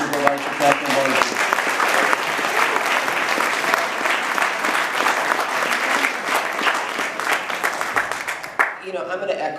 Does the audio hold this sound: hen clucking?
no